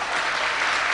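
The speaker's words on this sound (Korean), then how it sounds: "박수 한번 쳐주십시오" Audience applause from a crowd at a Korean election rally concert, dense steady clapping filling the whole moment, close and loud with no voices on top.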